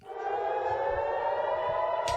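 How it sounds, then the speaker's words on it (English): A civil defense air raid siren wails steadily through the clip, a loud sustained tone that holds its pitch with no voices over it. "Every single time a siren goes off, all the children literally go berserk."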